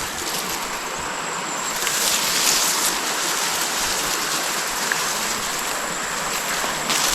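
Steady river water flowing past a riverbank at the edge of a rice field, a continuous broadband rush with no talking.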